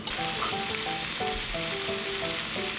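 Squid stir-frying in a pan with kimchi base and yakiniku sauce, a steady bright sizzle throughout, with faint tonal humming underneath.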